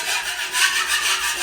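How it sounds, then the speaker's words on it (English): A putty knife scrapes high spots off a coat of filler, giving a steady, rasping scrape that rises and falls in continuous close strokes with no talking. "We're just going to go around with our putty knife and just scrape off any high spots."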